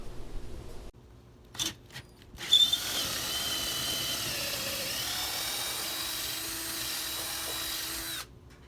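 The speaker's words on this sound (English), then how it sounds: "drill a hole for your power lead" A power drill bores a hole through a house wall with a half-inch bit to run a security camera power lead; after a few brief clunks, a steady, loud whine holds for about five seconds and then stops abruptly.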